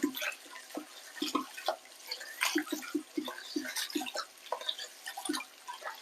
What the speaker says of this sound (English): So I'm gonna wash the rice 2 times.